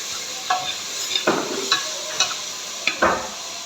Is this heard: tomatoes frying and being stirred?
yes